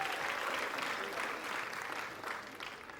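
Steady applause from an audience at a film trailer launch event, a dense continuous clatter of clapping that holds loud throughout and eases slightly toward the end, with no voices over it.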